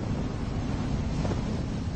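Storm-force wind at sea, gusting around 120 to 130 km/h, roars as a dense, constant rumble with crashing surf mixed in, loud and unbroken.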